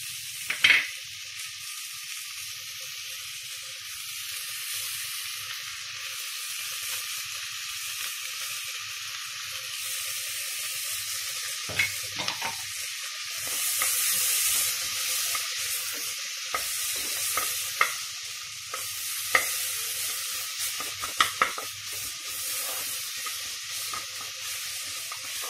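Ginger, garlic and green chilli sautéing in a pan for beetroot pulao, a soft continuous sizzle with occasional scraping stirs and small clicks, close and steady with no talk.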